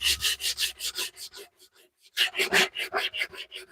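Wood being sanded by hand with coarse 80 grit sandpaper, a steady series of close rasping back-and-forth strokes that pause briefly before resuming at a brisk rhythm.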